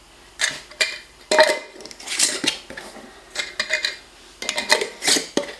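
Metal or glass lids are set and twisted onto spice storage jars, giving a quick series of close clinks, clatters and scrapes in irregular bursts with short pauses.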